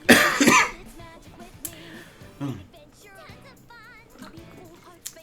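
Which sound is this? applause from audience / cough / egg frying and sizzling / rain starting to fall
cough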